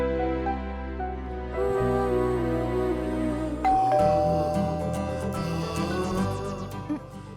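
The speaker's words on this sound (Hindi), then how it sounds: "घंटी बज रहल बा" A doorbell chimes in a Hindi TV drama scene, a clear ding-dong tone cutting through soft background music.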